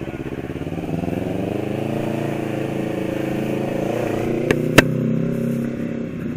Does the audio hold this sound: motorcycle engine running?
yes